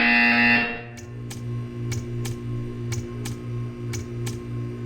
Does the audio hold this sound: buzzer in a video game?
yes